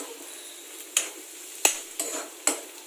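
Onion filling for samosas is stirred in a pan with spices, a spoon scraping and clicking against the metal four times over a low, quiet sizzle.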